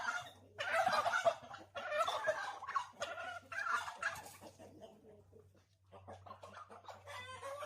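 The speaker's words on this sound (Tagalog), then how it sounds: "Ito na yung mga pabo natin." Turkeys gobbling in a farm pen shared with chickens, a series of close, rapid bursts of gobbles and clucks that fade briefly and then return, with a faint low hum underneath.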